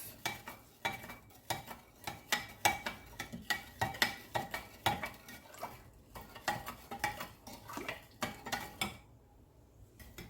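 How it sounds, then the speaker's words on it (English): Rhythmic stirring clatters against a container, repeated quick scraping strokes at close range mixing a lemonade and milk drink until dissolved, pausing briefly near the end. "I'm just going to mix it until it's dissolved"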